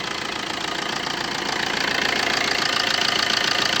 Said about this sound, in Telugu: ఒకసారి ఇంజన్ కండిషన్ చూపిస్తాను చూడండి.